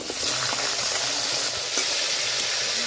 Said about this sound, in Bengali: এঁচড়গুলো নামিয়ে সেই তেলে দিয়ে দিচ্ছি আলুগুলো